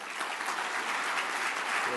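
A room of people at a transportation event gives a round of applause, dense sustained clapping throughout, moderately loud and even, with no speech on top.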